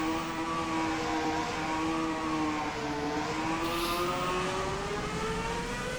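A 2017 FSR race car engine roars steadily and loudly on a test drive, its pitch sagging and climbing smoothly with the throttle, heard alone with no talk.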